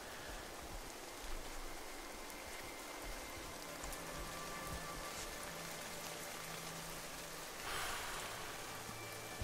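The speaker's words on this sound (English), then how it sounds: "This rain is getting a little bit foggy," Rain falling on an alien planet in the video game No Man's Sky, a soft continuous hiss of drops with a faint low tonal hum underneath, quiet and steady, no speech.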